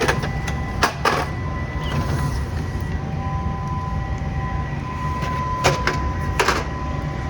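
Steady broadband hum of a fan running in an apartment HVAC unit, with a faint tonal whine and a few short clanks or rattles near the start and end, heard alone without talk.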